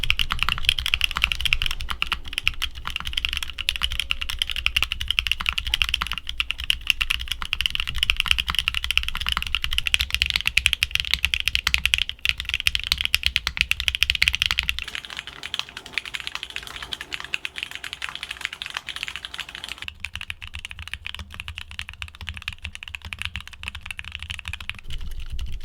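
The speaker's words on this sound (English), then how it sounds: "here are back-to-back sound tests of all the switches we talked about today" Several linear mechanical keyboard switches are typed on back to back, each set a continuous run of fast, close keystroke clacks, with the tone and loudness shifting noticeably as one switch gives way to the next.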